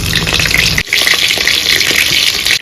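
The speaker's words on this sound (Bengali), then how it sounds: "আমি এখান থেকে সাইড দিয়ে ভাজা করে নিচ্ছি।" Egg-stuffed tomatoes fry in a pan of hot oil, giving a close, continuous bubbling sizzle with a brief dip near the one-second mark before the crackle resumes at full strength.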